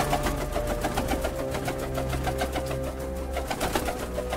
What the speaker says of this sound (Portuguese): O barulho de um pássaro voando dentro de casa.